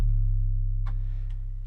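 A deep 808 bass note from an FL Studio West Coast beat, one long sustained low boom that slowly decays, with a couple of faint percussive ticks over it.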